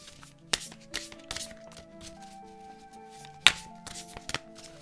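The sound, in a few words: shuffling Navajo oracle cards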